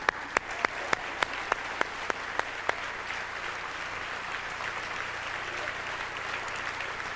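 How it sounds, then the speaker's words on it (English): Audience applause for MusiCares caseworkers and staff at a MusiCares event: a steady, even wash of clapping with a few sharp, regularly spaced claps standing out during the first few seconds. "please give them a big round of applause."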